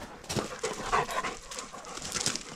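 A dog pants close by in quick, rhythmic, fairly quiet breaths, a steady huffing pulse with no voices over it.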